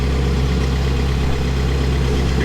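A Finn MB50 bark blower engine runs steadily at idle, a loud, even mechanical drone with a deep low hum and no change in speed.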